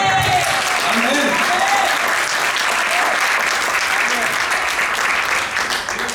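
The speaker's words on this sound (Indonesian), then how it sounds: "Boleh tepuk tangannya udah gitu." Church congregation applauding during a service, steady dense clapping filling the whole stretch at close range, with some voices mixed into the crowd noise.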